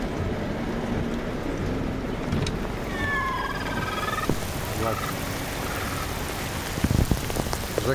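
Rushing water pours and splashes continuously through a flooded ditch beside a highway in Indonesia, with frogs croaking and chirping in bursts over the constant flow.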